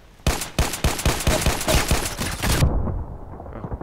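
Rapid string of about ten sharp TT pistol shots in the Contract Wars shooting game, evenly spaced and loud, with an abrupt cutoff followed by a short quieter tail and a faint mechanical click.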